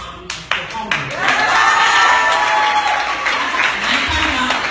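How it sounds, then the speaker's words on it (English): A crowd at a live product presentation breaks into a loud, sustained round of applause and cheering, starting with a few sharp claps and building to a dense, steady roar close by. "So I definitely give you guys a round of applause"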